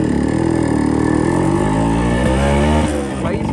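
A Yamaha RX100 motorcycle with its silencer mesh removed revs up close and loud, the raw engine note climbing and dipping through throttle blips before falling off at the end.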